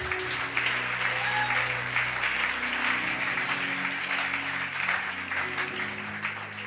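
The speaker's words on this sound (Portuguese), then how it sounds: "Você pode aplaudir?" Applause from a congregation during a Tuesday church service, a steady wash of clapping held throughout, with low sustained tones, likely organ or keyboard, running underneath.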